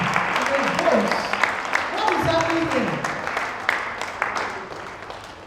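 Audience applause at a school safeguarding and child protection conference session, a steady wash of clapping throughout while a voice speaks over it.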